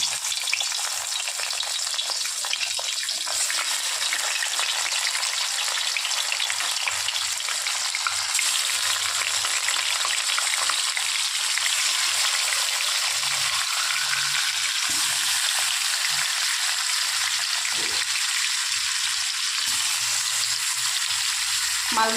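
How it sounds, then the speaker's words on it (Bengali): Fish frying in very hot oil for a homestyle Bengali dish, a steady dense sizzle that stays loud and close the whole time, with occasional soft stirring noises and no talk. "তেলটা যখন খুব গরম হয়ে যাবে তখন আমি এর মধ্যে মাছগুলোকে দিয়ে"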